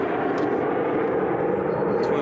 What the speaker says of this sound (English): Apologies for that noise in the background, because that's the red arrows.